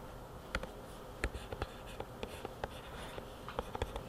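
A pen or pencil scratches out math on paper in a classroom, a string of sharp taps and short strokes in an uneven rhythm, close and quiet over a low background hum.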